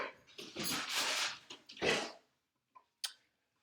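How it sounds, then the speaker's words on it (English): A dog barks in short loud bursts indoors, a few rough barks in the first two seconds followed by two faint, brief yelps after a pause. "Bo, do you only bark when I'm doing a video?"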